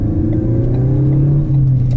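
A Ford Focus ST/RS engine hums loudly and steadily, a low rumble with a slowly rising pitch as the car accelerates.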